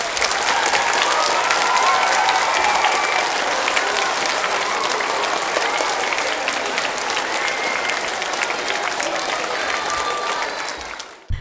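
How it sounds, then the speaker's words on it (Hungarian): Sustained applause from an audience at a school award ceremony, dense steady clapping filling the room for about ten seconds before dying away abruptly at the end. "Nagy tapsot!"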